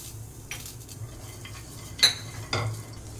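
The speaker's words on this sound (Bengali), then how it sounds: "তো সবার প্রথমে আমি এই কাজুটা এতে দিয়ে একটু ভেজে নেব।" Cashews and raisins fry in a little oil over a low flame in a pan, with a quiet sizzle and a few metallic clinks and scrapes of a spoon.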